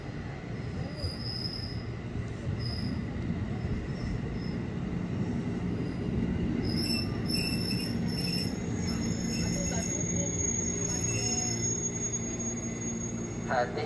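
KRL commuter train arriving at Jayakarta station in Indonesia, its wheels squealing in high shrill bursts over a steady loud rumble of rail cars, continuous for about fourteen seconds with faint station announcements in the background.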